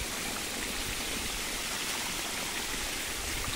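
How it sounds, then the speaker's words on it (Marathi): Irrigation water flows steadily through a sugarcane field, a continuous close rushing and gurgling with no breaks and no voices. "असं चाललंय एकदम मस्तपैकी पाणी।"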